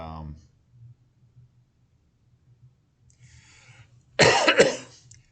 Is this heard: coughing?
yes